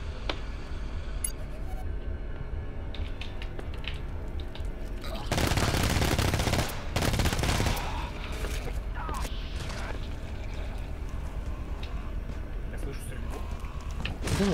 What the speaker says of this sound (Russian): Я слышу стрельбу.